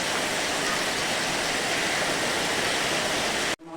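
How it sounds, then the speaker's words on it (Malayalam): Heavy rain pours in a steady, dense broadband roar that holds at an even level for over three seconds, then cuts off abruptly just before the end. "നല്ല മഴയാണ് ഇവിടെ ഉണ്ടോ മഴയാണ്"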